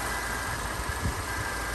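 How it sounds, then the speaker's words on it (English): A 2010 Mercedes-Benz C180 Sport Saloon automatic with a petrol engine idles steadily, giving a quiet, even low rumble close by with no voices. "Nice quiet engine, petrol"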